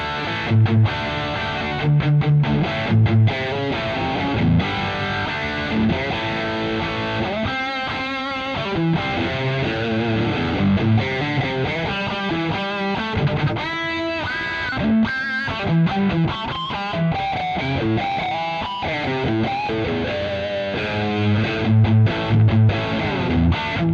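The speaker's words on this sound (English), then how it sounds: "The next one I have is the brown sound, which is a little more gain with all the same settings" A heavily distorted electric guitar through a Boss Katana Artist MkII amp plays a continuous riff with thick high-gain crunch and trailing delay echoes, loud and alone.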